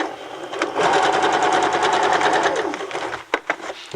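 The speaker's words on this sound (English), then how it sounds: "So you just sew right over those." A sewing machine stitches over darts in fabric with a steady, rapid mechanical whir that runs for about three seconds, then slows and stops with a couple of clicks.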